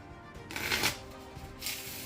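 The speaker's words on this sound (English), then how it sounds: "I like shuffling cards." Quick riffling bursts of playing cards being shuffled up close, two brief flurries separated by a short pause.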